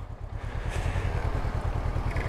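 A 2019 Honda CB500X motorcycle is ridden gently, its engine throbbing in a rapid, steady pulse up close, with slight clattering.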